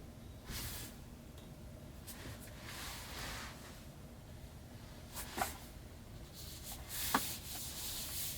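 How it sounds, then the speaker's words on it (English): Microfiber cloth wiping down trim on a Model Y Performance interior, a soft steady rubbing and swishing close up, faint and continuous with a few small bumps. "I'm just using a microfiber cloth to kind of give this a final wipe down"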